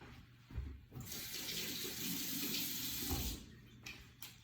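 Water runs from a kitchen tap onto hands while making focaccia dough, a steady close splashing rush lasting a few seconds before cutting off.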